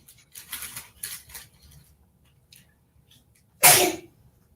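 A single sharp sneeze bursts out loudly near the end, after a few quiet moments of faint rustling and soft background sounds.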